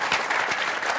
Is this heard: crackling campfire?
no